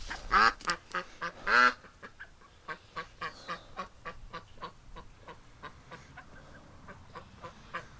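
Ducks quack close by at a rescue yard, two loud nasal calls first, then a long run of shorter, evenly spaced quacks that grow fainter and fade.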